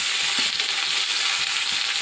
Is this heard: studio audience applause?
no